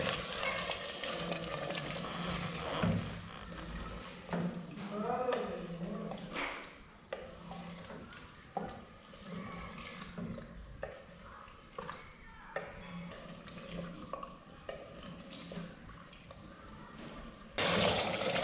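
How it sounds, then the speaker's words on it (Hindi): Chicken frying in spiced masala in a home kitchen pan: a steady soft sizzle with repeated scraping and stirring clicks from a spoon, fairly quiet and close, ending with a louder burst of sizzle. "यहाँ पे हमें चिकन को काफ़ी देर भूनना है, अच्छी तरह फ्राई करना है कि ये चिकन नरम हो जाए।"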